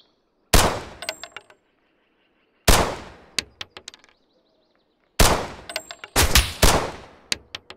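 Video-game gunfire comes in three sharp bursts of rapid shots, each followed by scattered metallic pings and clinks, loud and close with silence between the bursts.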